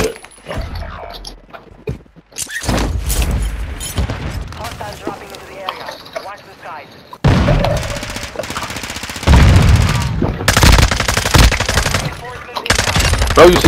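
Loud automatic gunfire from Call of Duty: Modern Warfare II comes in sustained rapid bursts broken by brief gaps, with players talking over the shooting.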